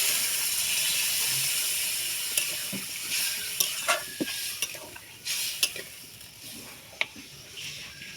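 Parwal and potato curry with fried prawns is stirred in a pan, with irregular scrapes and clicks of the spoon over a steady frying hiss.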